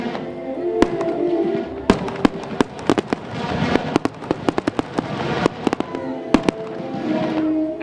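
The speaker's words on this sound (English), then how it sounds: "Fireworks light up the night." Fireworks bursting over the night sky at the Summer Iowa Games opening ceremony, with sharp loud bangs and crackles arriving irregularly over a continuous rumbling wash of explosions.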